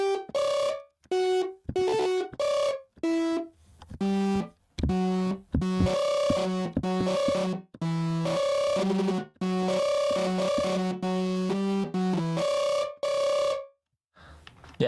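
Synth lead with diode distortion plays two adjacent notes together, a loud, buzzing, sustained line in choppy phrases with brief gaps, alone without any talk.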